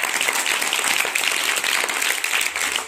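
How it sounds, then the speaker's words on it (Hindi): Dense audience applause for teachers at an Indian school event, a continuous wash of many hands clapping loudly and evenly throughout, with no voices on top. "इन सभी के लिए एक बार जोरदार तालियां।"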